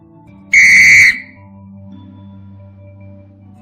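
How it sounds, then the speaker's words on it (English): A single loud, high-pitched whistle blast lasting about half a second, followed by a faint low hum. "In case of a blowing whistle, the waves are moving fast, hence the frequency is high."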